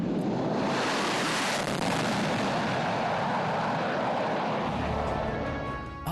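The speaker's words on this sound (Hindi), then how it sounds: "एक C-17 और 2 सुखोई 30 मिलकर बनाएंगे भीम फॉर्मेशन।" A C-17 transport flanked by two Sukhoi-30 fighters roars overhead in formation during the Republic Day parade flypast over Kartavya Path, New Delhi, a loud, sustained jet rumble that fills the whole stretch.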